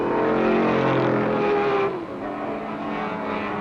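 A Ford Cortina race car at Sebring in 1964 screams past while overtaking, its loud engine note holding high and then dropping as it moves on, with other racing engine noise behind.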